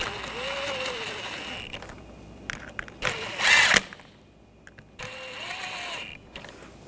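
A power drill drives and snugs screws on a rear window regulator of a 2014-2020 Nissan Rogue, in short whirring bursts separated by pauses and a brief ratcheting clatter.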